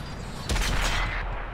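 A loud gunshot from an Xbox One game lands as one sharp, close blast that decays into a booming rumble.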